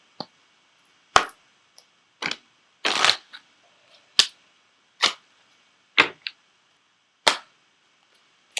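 Ascended Masters oracle cards are shuffled and pulled, making sharp, isolated riffling snaps and slaps, about eight bursts spread roughly a second apart over near silence, close and fairly loud.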